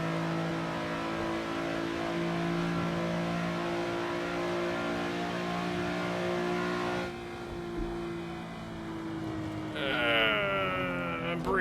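Race car in Assetto Corsa during a 24-hour Le Mans race, the engine droning at steady high revs, then dropping as it brakes and shifts, before rising again in a quick rev sweep.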